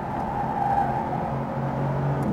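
A Chevrolet Corvette C8 accelerating on the Speed Vegas track, a steady, fairly loud engine drone with humming harmonics that rise slightly, heard from inside the car.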